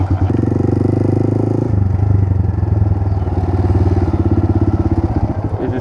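A Honda Grom motorcycle being ridden, its small single-cylinder engine putting out a loud, close, steady buzzing drone that shifts pitch as it revs.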